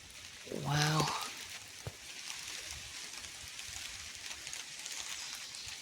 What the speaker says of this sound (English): Raining much harder now.